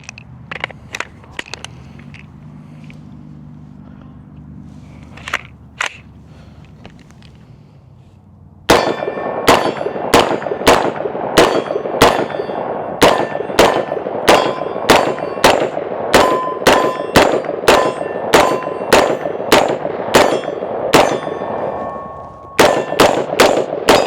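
A 7.5-inch AR pistol fires Winchester ammunition in a fast string of loud, sharp, evenly spaced shots with ringing metallic clangs, preceded by a few quieter knocks and handling sounds.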